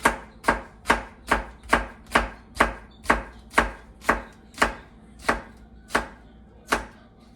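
A knife chops an onion into half moons on a cutting board, about thirteen crisp, evenly spaced strikes at a steady, unhurried rhythm, close and clear with no talking.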